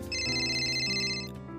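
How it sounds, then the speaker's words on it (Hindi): A phone ringtone sounds for an incoming call, a short bright melodic electronic tone played close and clear with no voices. "एक कॉल आता है।"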